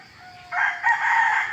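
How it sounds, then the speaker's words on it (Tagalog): A rooster crows nearby in the early morning, one loud drawn-out call that swells and holds, with faint quiet before it. "Nakapag-record ako ng mga tilakong manok"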